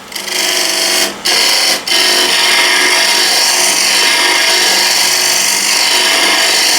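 A wood lathe spins a ball while a spindle gouge cuts it, giving a loud, continuous whirring hum with two brief dips where the tool lifts off.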